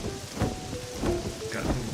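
Steady rain pours in the Pokémon Pokopia video game, a dense hiss with soft pattering drops and faint low rumbles beneath, heard alone without voices.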